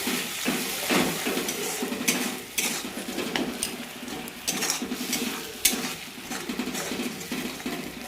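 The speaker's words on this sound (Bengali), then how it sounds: "মশলাটা দিয়ে দিলাম, মশলা দিয়ে নেড়ে নিচ্ছি একটু" Spice masala for a chana masala is stirred and fried in a pan, with a soft continuous sizzle under repeated scraping and clinking of a spoon against the pan, moderately loud and close.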